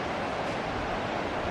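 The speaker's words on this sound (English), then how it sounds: "Kind of sounds like maybe the waterfall's right below us." Steady broadband roar of a waterfall somewhere below a road high above a creek, continuous and even, with no voices.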